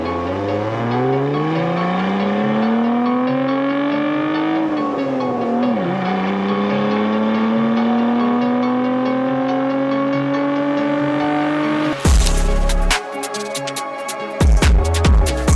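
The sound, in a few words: Dodge Viper drag racing a semi-truck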